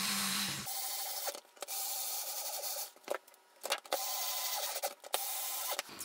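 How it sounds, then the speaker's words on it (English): An electric screwdriver drives screws back into a plastic Nerf Elite Jr. Rambler blaster, giving repeated whirring runs broken by brief pauses, close and fairly quiet. "I'm gonna go ahead and use my electric screwdriver to put most, if not all of these screws back in"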